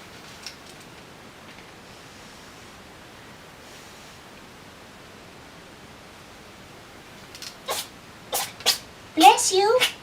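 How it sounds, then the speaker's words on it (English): A dog sneezes in a quick run of four or five sharp, close bursts near the end, after a long stretch of near-quiet room hiss. "That was a lot of sneezing there,"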